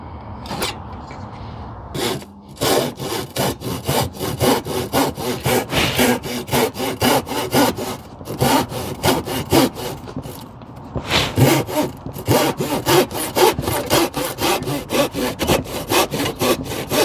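A hand saw cuts through a wooden fascia board for a shed roof repair in fast, steady back-and-forth strokes. The strokes are loud and close, with brief pauses between runs.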